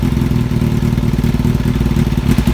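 A Kawasaki ZX-7R motorcycle engine idles loudly and unevenly after warming up with the airbox refitted, a steady low rumble with slight wavering pulses, no voices.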